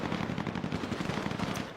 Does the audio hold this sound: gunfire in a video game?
yes